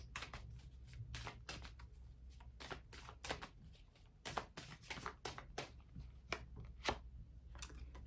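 Tarot cards shuffled and handled in repeated crisp riffles and slaps, close and fairly quiet over a low steady background hum, with no voices.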